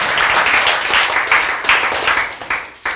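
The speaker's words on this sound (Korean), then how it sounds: "이럴 때 우리는 박수가 나온다." An audience in a church applauds loudly during a sermon, a dense wash of clapping that pulses slightly and tapers in the final second.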